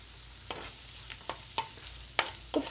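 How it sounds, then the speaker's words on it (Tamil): Salted onions soften in a pan for egg curry, a low sizzle under a series of distinct spoon scrapes and clacks that grow busier toward the end, with no voices. "இப்போ பாருங்கள், வெங்காயம் ஓரளவுக்கு வதங்கியிருக்கு"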